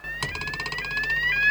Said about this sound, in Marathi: पोलिसांचं सायरन आहे तो.